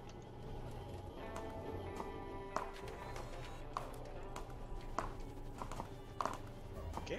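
Horse hooves clip-clop in the video game Stars End, a steady run of light, evenly spaced hoofbeats with a few sharper taps, playing over continuous game music and ambience at moderate level.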